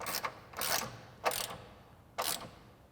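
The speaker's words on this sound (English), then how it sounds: "I'm going to take my 13 millimeter socket and my 3/8 ratchet again. Tighten these up." A 3/8-inch ratchet fitted with a 13 mm socket tightens bolts on Bronco side step bars, giving four short bursts of close, crisp clicking separated by brief pauses.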